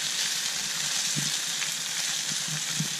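Tuna steaks sear in a hot pan aboard a sailboat just after being flipped, giving a steady, close, loud sizzle and crackle with a few soft stirring knocks and no voices.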